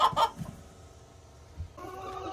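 Backyard chickens in their run give a few close, sharp clucks at the start, followed by quieter scattered murmurs and a low hum of background noise.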